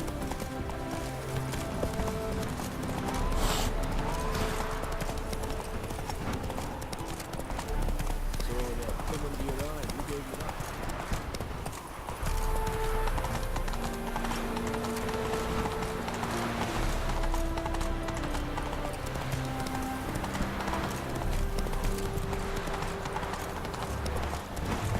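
Horse hooves gallop in The Witcher 3 video game, a steady rhythmic clip-clop running throughout beneath game music and brief voices.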